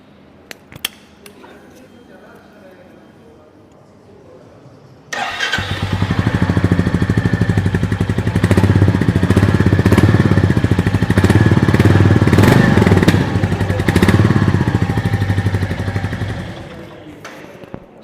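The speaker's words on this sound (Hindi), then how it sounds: "अब बात कर लेते हैं about the exhaust note of this Goan classic 350।" A Royal Enfield Goan Classic 350 motorcycle starts up close by after a few quiet seconds, then gives a loud, steady, thumping exhaust note as it idles and revs, easing off at the end.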